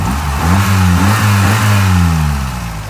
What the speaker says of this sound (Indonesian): Mesinnya bersih, suaranya juga halus